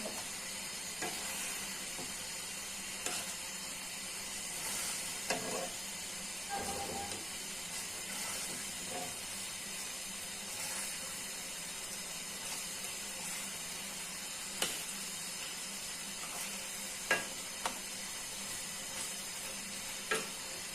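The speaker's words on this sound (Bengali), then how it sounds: "এখন একে একে মাছগুলো ছেড়ে দিচ্ছি।" Fried hilsa pieces are laid one by one into a pan of mustard paste and oil, giving a quiet continuous sizzle and hiss with a few soft clicks and taps of utensils.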